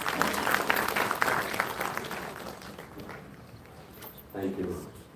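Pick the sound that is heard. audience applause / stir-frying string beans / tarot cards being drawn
audience applause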